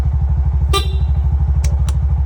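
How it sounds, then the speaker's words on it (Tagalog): A short honk of a Bajaj RE auto-rickshaw horn sounds once over a steady, rhythmic engine idle, followed by two brief clicks. "Busina."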